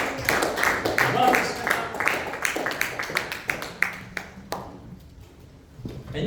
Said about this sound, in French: Donnez une bonne main d'applaudissement, Seigneur